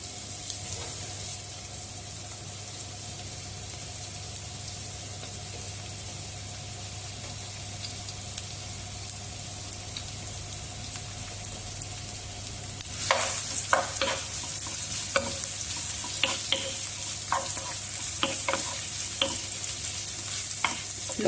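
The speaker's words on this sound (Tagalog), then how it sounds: "mainit na yung mantika natin, lagay natin sibuyas" Onion dropped into hot cooking oil in a wok starts sizzling steadily after a quiet stretch of low hum, with repeated sharp crackles and stirring clatter over the last third, close and fairly loud.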